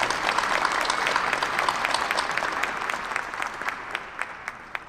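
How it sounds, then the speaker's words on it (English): An audience at a university Founders Day convocation applauds in a dense, loud burst of clapping that gradually thins toward the end, leaving a few scattered individual claps. "Let's give them a round of applause as well."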